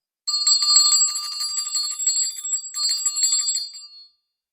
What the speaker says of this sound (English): so I have to ring the bell